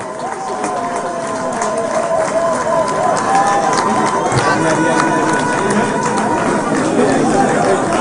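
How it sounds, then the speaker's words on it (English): Community crowd cheering at an outdoor road-upgrade commissioning in the FCT, a loud continuous mass of voices and chatter with occasional whistles, close and dense throughout. "And they are cheering."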